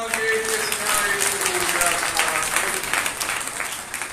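Congregation applauding in a church during a Sunday sermon, a steady wash of clapping that holds for the whole stretch, with a voice faintly audible underneath.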